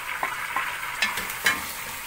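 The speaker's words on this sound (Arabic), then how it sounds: "واقلب كويس قوي." Chicken and vegetables are stirred in a frying pan, a soft steady sizzle broken by several distinct scraping strokes of the utensil against the pan, close and alone.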